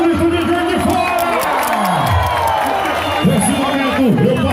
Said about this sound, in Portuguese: Uma salva de palmas, cadê o grito de Juiz de Fora?